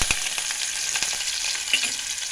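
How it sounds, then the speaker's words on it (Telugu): Chopped onions and curry leaves frying in hot oil for a bean curry, a close steady sizzle with crackles and small pops, no voices. "ఈ విధంగా ఆయిల్ వేడయ్యాక కట్ చేసుకున్న ఉల్లిపాయ ముక్కలు వేసుకుందాము"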